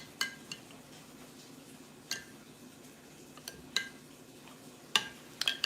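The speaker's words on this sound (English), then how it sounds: "Well, we're still stirring." A spoon stirs a kefir mixture in a container, giving quiet scraping with scattered light clinks against the sides at an uneven pace, close and soft.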